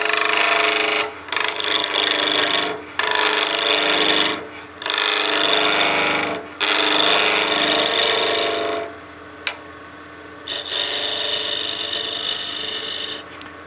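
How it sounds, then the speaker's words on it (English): A 1-inch skew chisel makes planing cuts on a spinning wood spindle on a lathe, a loud close rasping hiss in repeated passes of one to two seconds separated by brief pauses. "we'll be using the 1-inch skew to do some planing cuts on here"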